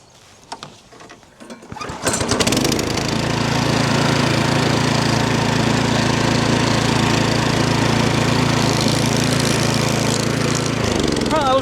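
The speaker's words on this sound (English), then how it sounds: "this is running the verticutter over" A verticutter runs across a lawn, its engine and blades starting after a couple of seconds of light sounds, then a loud, steady, close mechanical whirring and rattling throughout.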